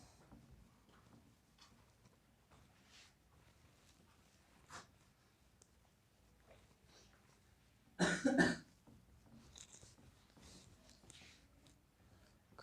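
During a quiet maths lesson, a person gives a single short burst of close, loud coughing against a faint background of soft ticks and room noise.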